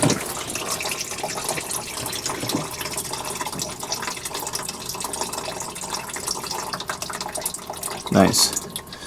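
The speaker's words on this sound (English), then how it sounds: "So right there, we got oil leaking out of the filter. We're gonna let it drain." Engine oil drains from the oil filter of a Chevrolet Suburban during a service, a steady close trickle and splatter of liquid that runs continuously and swells briefly near the end.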